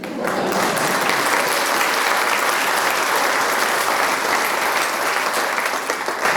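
Sustained, dense applause from an audience at a 2018 high school commencement ceremony, steady and loud throughout with no break.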